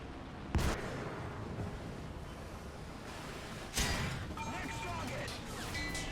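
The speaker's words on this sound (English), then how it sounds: "A lot of panic firing going on." Gunfire in War Thunder's realistic tank battles, with two sharp loud shots about three seconds apart over a constant rumble of engine and battle noise, and a voice speaking throughout.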